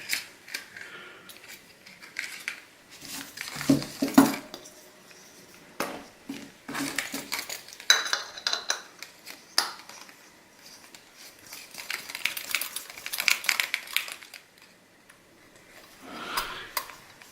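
A GSI Microdualist camping stove is folded out and its three metal pot supports are swiveled, producing a long series of close metallic clicks, ticks and light rattles in irregular bursts with brief pauses between them.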